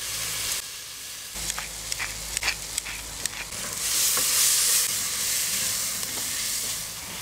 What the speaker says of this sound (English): add some butter to a saucepan and then saute off that lovely onion, garlic and sage